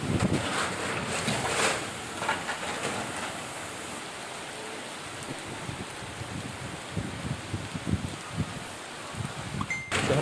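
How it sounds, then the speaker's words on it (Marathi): Heavy monsoon rain falls with strong gusting wind in the Ghodegaon area near Pune. The sound is a dense, continuous wash of noise with surging gusts and buffeting against the microphone, and no voices are heard. "घोडेगाव भागामध्ये विजांच्या कडकडाट, वादळी वाऱ्यासह मुसळधार पाऊस सुरू आहे।"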